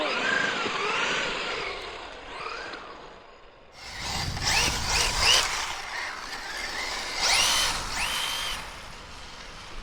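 Traxxas Slash 2wd RC trucks launching on beach sand, electric motors whining up in sharp rising bursts with gritty spinning and spraying, near and fairly loud.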